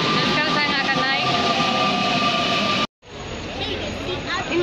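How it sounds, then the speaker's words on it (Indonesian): A train pulls into a station: a loud, steady broadband rumble with a sustained whine. It cuts out briefly just before the three-second mark, then the rumble resumes. "Keretanya sudah tiba dan sekarang saya gak akan naik."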